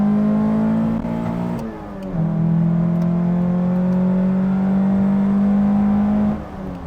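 A JDM car of about 130 horsepower accelerates off the line, its engine note climbing, dropping at a gear change and then climbing again, loud and close, with no voices.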